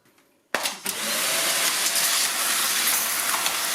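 A Silvercrest SHZK 600 A2 bagless cyclonic 600 W corded vacuum cleaner switches on abruptly after a quiet moment, then runs with a steady, loud, broadband whooshing roar close by.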